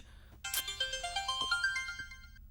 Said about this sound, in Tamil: இப்பதான் சதீஷ் ஃபோன் பண்ணான்.